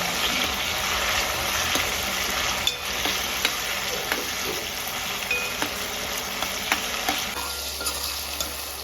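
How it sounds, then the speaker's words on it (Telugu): Tomatoes fry in oil in a pan for egg biryani, giving a loud continuous sizzle close up with occasional light clinks of a stirring spoon. "ఈ టైంకి టమాటో వేసుకోవాలి ఈ టమాటా మెత్తగా వేయాలి"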